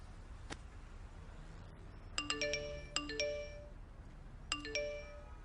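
Phone message notification tones land one after another. Bright chiming jingles repeat three times over a low, steady background hum.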